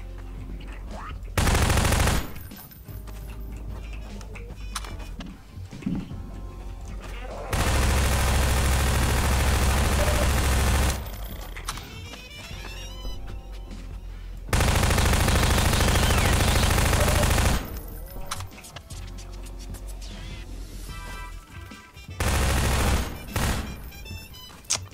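Sustained automatic gunfire in Half-Life 2, coming in long loud bursts of rapid shots several seconds each, separated by quieter stretches of game noise and a player's voice.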